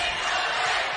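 A basketball crowd at an Ole Miss vs Auburn SEC game roars in a broad, loud wash of many voices during a free throw, brief and sustained.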